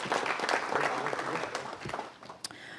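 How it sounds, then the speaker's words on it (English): Applause from the audience at a city council meeting, a moderate round of clapping that tapers off after a couple of seconds, with faint chatter underneath. "Everyone give her a round of applause."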